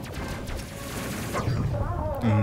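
A gunner fires weapons in the space combat game Space Crew, a rapid fusillade of gunfire bursts with heavier booms building toward the end, loud and continuous.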